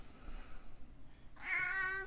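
A house cat lets out a single drawn-out meow in the second half, close and clear against a quiet indoor background, with faint room noise before it.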